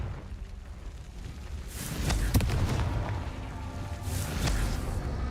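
Repeated Confringo fire spells exploding in a video game, deep booms and rumbling blasts swelling twice over a low background, with no talk.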